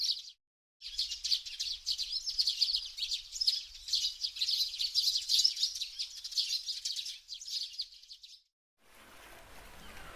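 Small flock of hardy birds foraging for seeds in winter, giving quick high chirps and tweets in a steady busy stream, moderately near, then a brief pause near the end.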